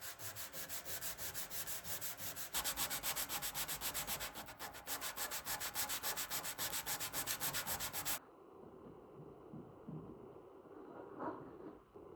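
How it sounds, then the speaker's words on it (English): Steady rasping strokes of sanding on an oak tabletop run for about eight seconds, then stop, leaving quiet room noise with a faint knock. "And of course, more sanding."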